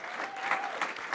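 A church congregation claps together during a Sunday revival service, a short burst of dense applause with a sustained vocal tone running beneath it.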